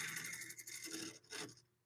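Carbide lathe tool taking light cuts on a spinning wood bowl, producing a few soft, rasping scrapes in short bursts, fairly quiet and close.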